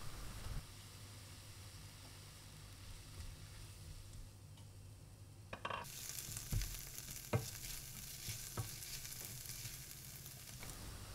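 Onions frying in a pan for butter chicken curry give a faint steady sizzle, brightening partway through as the heat picks up, with occasional stirring clinks and taps nearby and no talking.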